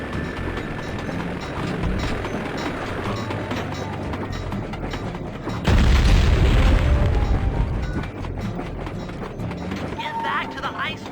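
A heavy, booming blast blows open a train caboose in the Sly 2: Band of Thieves video game, bursting out midway over a dense bed of game music, effects and character voices.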